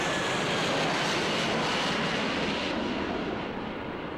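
A fixed-wing airplane passes overhead, its engine a broad, steady roar that stays loud and gradually eases toward the end, with no talking.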